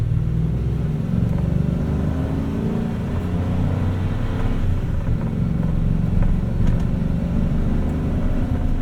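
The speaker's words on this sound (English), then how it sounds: "the engine's making a lot of noise, but you're not doing a whole lot of go" A 26-foot U-Haul box truck's engine drones loudly and continuously while driving, a heavy low rumble with steady road noise and no talking.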